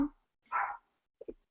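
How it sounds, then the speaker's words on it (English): A dog gives a couple of short, faint barks in a quiet room, followed by a small yip, each sound separated by silence. "Can you hear the dogs barking?"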